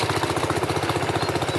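A British-made wartime tractor engine runs steadily while ploughing a field, a loud, close, even chugging beat with no pause and no talk.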